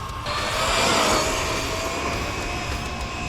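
An Arrma Typhon RC car with a Castle motor and Hobbywing ESC runs at high throttle, giving a steady, loud, whining motor roar that holds for the whole stretch with no talking.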